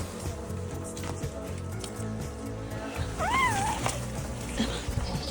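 A house cat gives a single rising-and-falling meow midway, fairly close, over a busy background of soft domestic noise and rustling, with no other calls.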